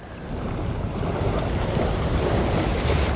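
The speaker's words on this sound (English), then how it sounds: "It's really annoying that the wind is in our face." Steady wind roars across the microphone at a shoreline during land-based fishing in Exmouth, with waves washing in beneath it, loud and continuous throughout with no voices.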